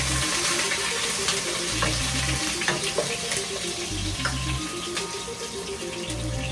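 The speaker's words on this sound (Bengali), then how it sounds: "এরপর আমি দিতে যাচ্ছি কালো জিরার পর কিছুটা রসুন" Garlic and black cumin fry in oil in a steady, close sizzle, with occasional stirring scrapes and a low hum running underneath.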